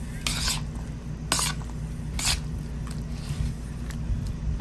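A spoon stirs a peach cobbler mixture with cinnamon in a pan in an RV kitchen, making soft scraping swirls with a few sharp bright scrapes against the pan, fairly quiet and steady.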